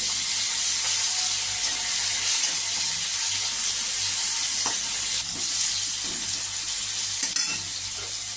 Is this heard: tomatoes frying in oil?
yes